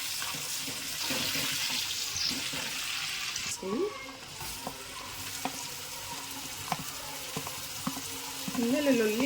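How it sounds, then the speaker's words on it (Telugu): Onions, tomatoes, curry leaves and green chilies frying in a pan, a steady hiss of sizzling with occasional stirring clatter and faint kitchen noises, while people speak briefly in the background. "కరివేపాకు, పచ్చిమిర్చి ఇది వేగిన తర్వాత ఆనియన్స్, టమాటా వేసుకున్నాం."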